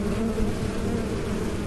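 Honey bees buzz in a thick, continuous drone close by, loud and unbroken, with no talking.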